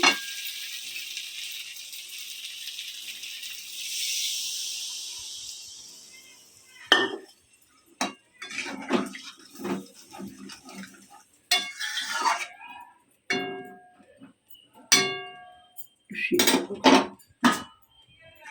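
A lid goes onto a cooking pot of spiced potato and green pea curry with a few metallic clinks and clatters of pan and utensils. Bursts of clatter come in quick succession after a softer hissing start.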